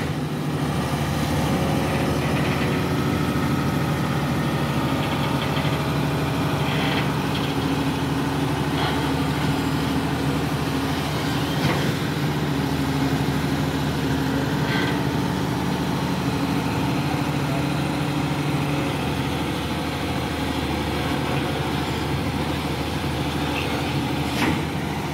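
An excavator's diesel engine idles and runs steadily while clearing wild trees along a riverbank, a constant low rumble with occasional faint clanks, distant and unbroken for the whole stretch.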